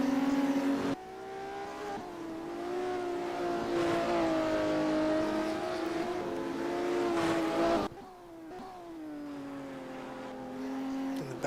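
Classic Porsche Cup race cars in a sim racing game slide around the track, engines droning steadily with rising and falling revs and faint tyre scrub, a brief drop midway before the engines swell again, no talking.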